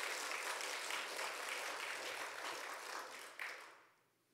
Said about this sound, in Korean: 우리 하나님께 한번 감사와 영광의 박수를 한번 돌리면 좋겠습니다